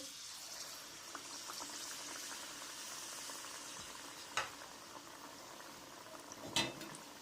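Steady, soft sizzling and bubbling of dough for dudh gokul pitha frying in hot oil, with a couple of brief sharp clinks over the continuous hiss.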